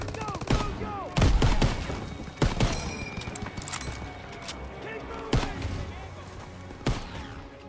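Bursts of machine gun fire from Call of Duty WW2 fighting around a barn, sharp cracking volleys clustered near the start with scattered single shots later, over a busy battle din with voices.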